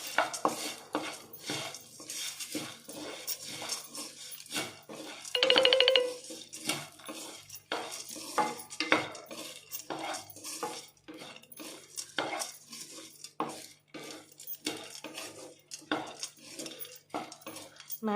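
A metal spoon clinking and scraping against a bowl while mixing Maggi noodle bhel puri with lemon and pepper, close and rhythmic with repeated sharp taps and stirring scrapes, plus a brief ringing tone partway through.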